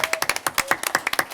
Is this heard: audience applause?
yes